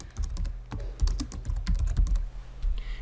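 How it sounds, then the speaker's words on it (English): Rapid typing on a computer keyboard during a SolidWorks 2014 software demonstration, with dense, irregular key clicks running steadily for about three seconds, close and clear, with no talking. "If I type in some text, we have an additional box."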